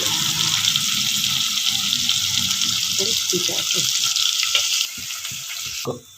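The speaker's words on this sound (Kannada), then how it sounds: "ನೋಡಿ ಶುಂಠಿ ಬೆಳ್ಳುಳ್ಳಿ ಪೇಸ್ಟ್ ಈ ತರ ಸ್ವಲ್ಪ ಎಣ್ಣೆಯಲ್ಲಿ ಬಾಡಿಸ್ಕೋಬೇಕು" Ginger garlic paste sautéing in a little oil, a bright continuous sizzle up close with a voice talking over it, the frying dropping in level near the end.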